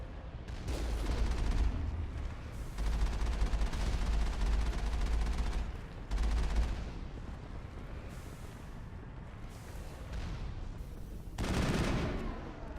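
Sustained bursts of rapid gunfire from a turret fight in the video game Mass Effect, loud rattling volleys that start and stop several times with short gaps, along with blast-like rumbles and no voices.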